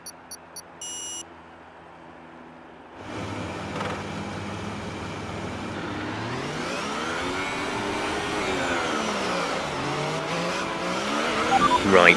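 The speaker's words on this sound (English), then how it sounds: "Right, let's get the car up to temperature on this lap." Race car lapping Albert Park in a racing video game, engine whine rising and falling through gear changes after a few short beeps, with a steady loud drone building toward the end.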